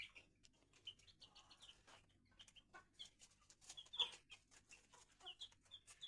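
Soft clucking and chirping from a group of chicks and hens, scattered light calls repeating throughout at close range with no talking.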